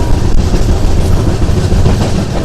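LHB coaches of the Kacheguda–Mysuru SF Express (12785/12786) run at close to 110 km/h near Shadnagar, giving a steady, loud rolling rumble with continuous rail clatter and no pauses.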